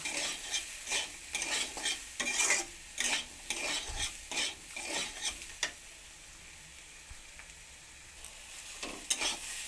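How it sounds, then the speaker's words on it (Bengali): Ground spices are stirred into frying vegetables, long beans, pumpkin and potato, in a pan, with repeated close scraping strokes over a low sizzle, busier at first and thinning out later, with no talk. "সমস্ত কিছু একসঙ্গে গুঁড়ো মশলাগুলোকে মিশিয়ে নেব"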